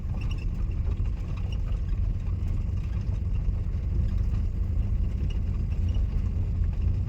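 A car's engine hums in a low, steady drone as the clutch is eased out during a driving lesson on a main road, continuous and even throughout, with no voices.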